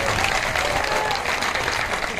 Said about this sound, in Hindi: तालियां बजाने के लिए।